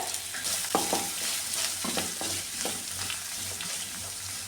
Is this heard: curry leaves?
yes